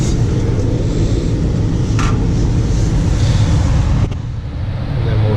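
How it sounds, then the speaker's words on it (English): A Carrier furnace blower running steadily after startup, a loud continuous broadband whoosh of moving air with a low rumble, briefly dipping near the end with a faint click before resuming. "Blower runs for 90 seconds."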